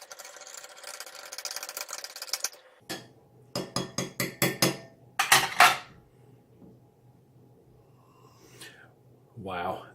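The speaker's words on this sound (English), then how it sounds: "Give it a bit of a stir." Rapid metallic clinks of a spoon stirring a Swedish ration grapefruit drink in a cup, several sharp bursts of tapping and scraping separated by pauses, with a faint hum underneath.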